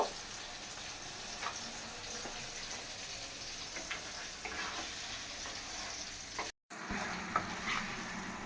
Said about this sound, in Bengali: মাছের জন্য মশলা কষাই নিছি